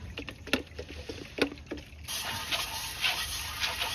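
A hand pump pushes air into a pressure sprayer used for degreasing a 1974 Chevy C10 engine; rhythmic strokes come first, then a steady hissing rush of pressure fills the second half.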